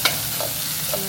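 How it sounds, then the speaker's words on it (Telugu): Ginger garlic paste and tomato paste cooking in oil for tomato rasam, a dense steady sizzle with a few light stirring scrapes, close and even. "బాగా మగ్గాక మనం టమాటా పేస్ట్ వేస్తున్నాం. ఇప్పుడు కొంచెం అల్లం వెల్లుల్లి పేస్ట్ వేస్తున్నామండి."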